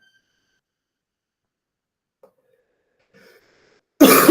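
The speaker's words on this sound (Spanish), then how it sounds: "Perdón, estoy con mucha tos." A person coughs once at close range, a sudden loud burst near the end of an otherwise quiet stretch, preceded only by faint small noises.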